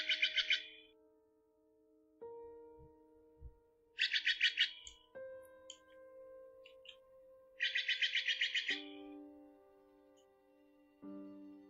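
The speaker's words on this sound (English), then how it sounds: "This one is going to be the Stellar Jay. This is a bird that is in my area" Steller's jay calls played back as an alert sound: three bursts of rapid, harsh chirping notes repeat at intervals, loud and clear over a faint background tone.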